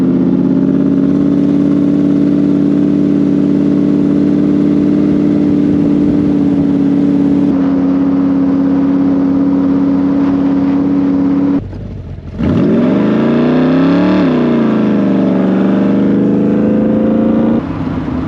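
A loud hot rod engine, in a full-size Ford hot rod, revs and accelerates steadily close by, its pitch dipping briefly before climbing again in a rough, throaty roar.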